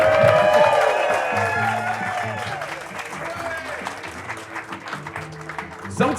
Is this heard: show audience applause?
yes